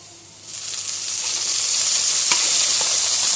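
Soy sauce hits a hot pan and erupts into a loud, steady sizzle and hiss while being stirred for a Korean cucumber salad, with a few scraping clinks of the spoon.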